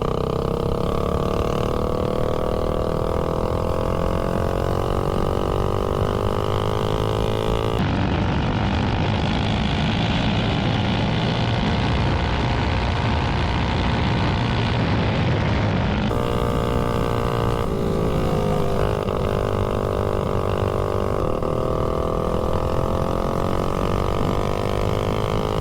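Predator 224 mini bike engine running on a 24 mm PWK carburetor, a loud continuous buzzing drone that rises in revs through the middle section and drops back to a steadier pitch, with no talking.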